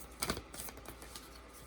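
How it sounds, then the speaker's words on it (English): A deck of new oracle cards being shuffled, the stiff cards sticking together, giving a few quick papery riffles and flicks, quiet and close with no talking. "These are a little hard to shuffle."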